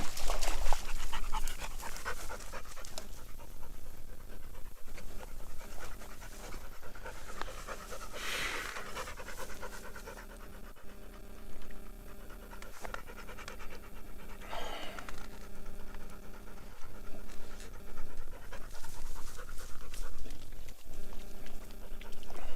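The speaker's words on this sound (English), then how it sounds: "Dog's still out there looking for him." A dog pants steadily and close by outdoors after rain, with rapid rhythmic breaths running continuously through a long stretch, fairly loud against quiet surroundings.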